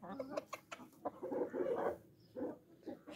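Free-range village hens cluck and murmur close by in a poultry yard, a steady run of short chattering calls with a few louder bursts, with no talk.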